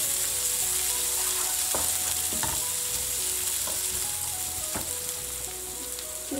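Spice paste for cilok kuah mercon sizzles steadily in hot oil as it fries until fragrant, with a few sharp stirring clacks and scrapes punctuating the constant close hiss.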